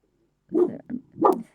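A puppy grumbles indoors in three short, low, throaty bursts, the middle one briefer, close by and fairly loud with quiet before.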